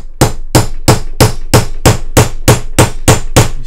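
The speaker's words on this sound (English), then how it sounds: "we just start off with a hammer" A hammer strikes a copper rivet post set in leather, flattening it with eleven crisp, loud metallic taps at a steady rhythm of about three per second, alone with no talking.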